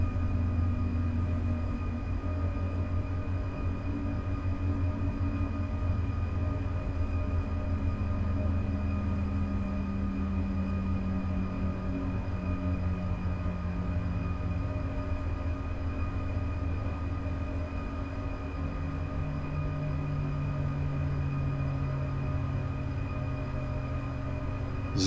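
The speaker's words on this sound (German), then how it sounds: "So, fahren wir hier an den Hauptbahnhof von Fulda, beziehungsweise an den Bahnhof von Fulda, auf Gleis 4 ein" A BR 401 high-speed train rolls into Fulda station in Train Sim World 5, giving a steady low rumble and hum with slowly gliding tones as it slows, continuous and close with no talking.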